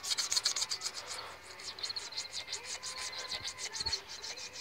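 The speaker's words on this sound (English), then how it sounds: "You keep going too, because you're scraping off carbon." A scraper works gasket residue and carbon off a metal engine block surface in quick rhythmic rasping strokes, close and fairly quiet.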